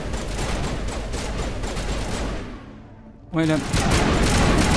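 Dense, rapid bursts of assault rifle fire in the Mass Effect video game pour out loud and continuous, break off for a moment, then resume, with a player's brief voice in between.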